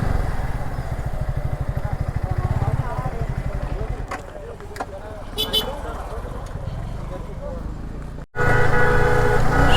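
Motorbikes idle in a column on the road to Sajek Valley among police and army vehicles, an engine thudding in a rapid even pulse up close before fading to a quieter murmur, then surging loud again; voices talk faintly underneath.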